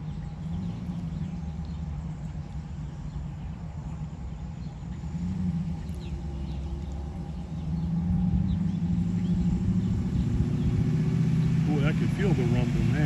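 A 1969 Camaro Super Sport with a 350 V8 rumbles steadily in the distance, growing a little louder as it approaches on a road, with faint birdsong in the background.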